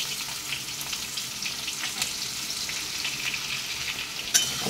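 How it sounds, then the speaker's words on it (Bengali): Cut potatoes frying in a pan with a little turmeric, a continuous even sizzle up close with scattered crackles and a short sharp clink near the end. "যেগুলো কেটে রেখেছিলাম সেই আলুগুলোকে এবার ভেজে নেব।"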